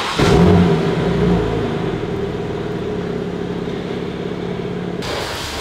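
A car, a BMW G82 M4 or M340d, rolls into a washing area with a low engine rumble that swells briefly near the start, then settles into a steady whir and hum throughout.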